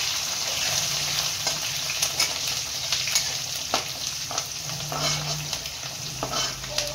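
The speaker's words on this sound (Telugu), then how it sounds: "సో బాగా మిక్స్ చేసుకోవాలి కరివేపాకు, జీలకర్ర అంతా." Curry leaves and cumin sizzle steadily in a hot pan for jeera rice while a spoon stirs them, adding soft scraping clicks over the constant frying hiss.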